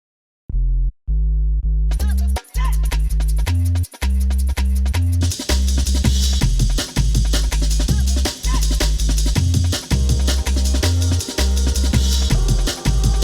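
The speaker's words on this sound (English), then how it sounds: "I've pitched it up by 3 semitones and I've reversed it" Jungle sample pitched up three semitones and reversed, drenched in plate reverb: a loud, dense loop of booming bass hits and choppy breakbeat, thin and sparse for the first two seconds before bright, washy highs fill in.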